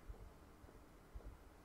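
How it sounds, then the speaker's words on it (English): Faint, low heartbeat thumps in the INSIDE video game, in paired beats that repeat about once a second under a quiet ambient hum. "I hear like a heartbeat."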